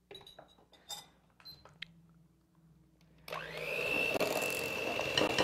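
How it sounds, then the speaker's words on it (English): An electric hand mixer beats eggs into batter in a bowl, starting partway through as a steady, loud whirring drone after a few clinks and small kitchen knocks. "Still beating in my eggs."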